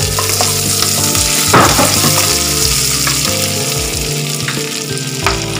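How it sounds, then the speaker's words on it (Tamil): Cumin, pepper and curry leaves roasting in a pan for pongal, a loud steady sizzle with scraping stirs and spoon knocks throughout, no voices. "சீரகம், மிளகு, இதையும் லைட்டாக ரோஸ்ட் பண்ணிக்கோங்க"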